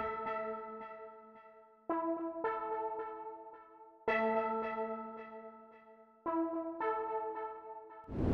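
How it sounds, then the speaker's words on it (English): Analog Lab's Prophet Made of Steel synth preset plays an A fifth chord, a bell-like, harmonically rich tone struck four times in slow succession, each hit ringing and decaying before the next, alone with no voices. "It's an Analog Lab preset, and it's by Kill September. And it's the Prophet Made of Steel preset."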